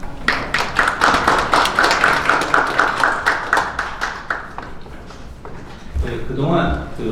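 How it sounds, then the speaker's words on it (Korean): Audience applause at a family trust law seminar, a dense run of hand claps for several seconds that thins out before a voice starts speaking. "안경봉 교수께서 박수 부탁드립니다."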